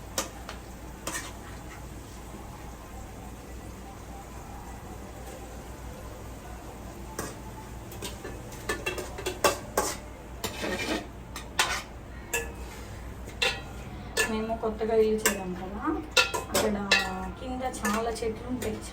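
Marinated chicken goes into a pot with tomatoes for biryani, bringing a low sizzle under repeated metal spoon clinks and scraping stirs that grow busier toward the end, while a voice talks intermittently.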